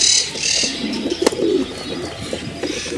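Racing pigeons in a breeding loft give soft, low coos nearby, with higher chirps from other birds and a few sharp clicks in the background.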